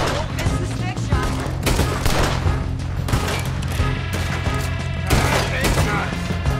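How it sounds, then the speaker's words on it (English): Heavy gunfire from a Red Dead Redemption 2 shootout plays as a continuous loud barrage of overlapping shots with booming impacts, and game voices can be heard underneath. "Just keep shooting till nothing moves!"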